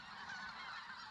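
A flock of specklebelly and snow geese honks in a dense, overlapping chorus, the calls blending into a continuous, fairly faint, distant clamor with no speech.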